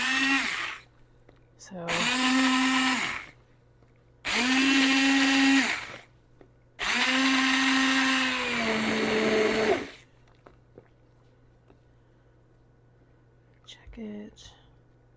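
Blender pureeing a pot of soup in three loud, steady bursts of several seconds each with short pauses between, then a brief faint clatter; a voice speaks quietly at the start.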